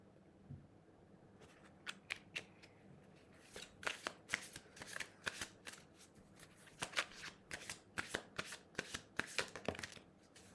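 Playing cards are shuffled during a card reading, giving a rapid run of crisp riffling bursts in uneven clusters, close and fairly loud over a quiet room with no talking.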